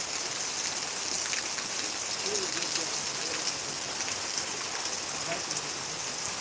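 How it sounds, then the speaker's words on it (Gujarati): Heavy rain pours steadily during a village storm, a dense, even hiss of drops on surfaces that holds at a constant loud level throughout. "કારણ કે વરસાદ વધતો જાય છે વધતો જાય છે"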